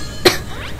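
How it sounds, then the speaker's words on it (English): A single short cough, close and fairly loud, rings out on its own in an otherwise quiet indoor room. "Dang, why am I coughing?"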